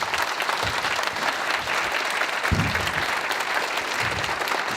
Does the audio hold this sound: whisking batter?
no